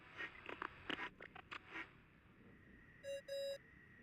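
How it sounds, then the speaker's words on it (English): A ringing tone in the Genshin Impact video game comes as two short, bright electronic tones in quick succession near the end, after a run of soft scratchy clicks. "I really hate that ringing tone."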